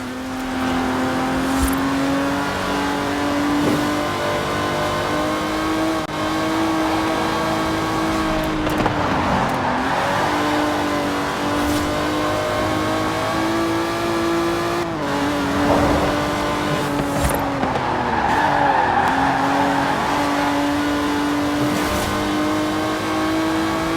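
An Aston Martin Vantage races in Forza Horizon 4, its engine droning loud and steady throughout, with the pitch rising under acceleration and dipping at several gear shifts.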